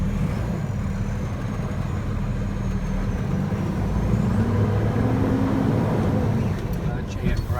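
A truck idles and creeps forward slowly after its parking and trailer air supply brakes are released, a steady low engine rumble filling the cab, with a faint brake hiss near the end and no talking.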